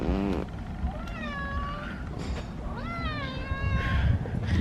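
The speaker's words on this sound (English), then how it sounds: "This is our cat, Cheddar." A domestic cat meows twice in drawn-out, rising and falling calls, close and clear over a low, busy household background.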